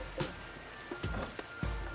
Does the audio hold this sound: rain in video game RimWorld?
yes